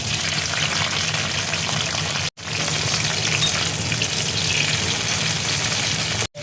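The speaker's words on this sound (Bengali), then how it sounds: "পেঁয়াজের বেরেস্তার তেলেই দেখো আমি পেঁয়াজটা দিয়ে দিচ্ছি" Onions frying in oil left from fried onions, a loud dense continuous sizzle close by, cut by two brief drops to silence.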